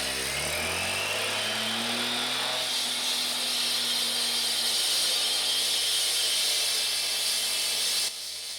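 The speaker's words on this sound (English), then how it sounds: "there's my jackhammer, and it came from Amazon for 130 bucks" A cheap jackhammer bought online hammers continuously through concrete along a scored line during a house remodel, a loud, steady rattling drone that stops abruptly near the end.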